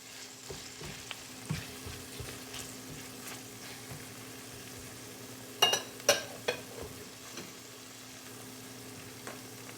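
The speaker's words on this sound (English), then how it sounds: "Saute this down for 3 minutes" Ackee and saltfish with scallion sautéing in a pan, a quiet, steady sizzle with soft stirring scrapes and a few louder utensil clinks partway through, close and without talk.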